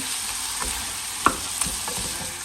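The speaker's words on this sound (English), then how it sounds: "Then add the yabby crushed shell and cook until light brown." Crushed yabby shells fry in butter and olive oil over low heat with chopped onions, giving a steady close sizzle broken by a few soft scraping stirs and one sharper utensil knock.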